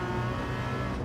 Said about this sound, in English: that car sounds pretty good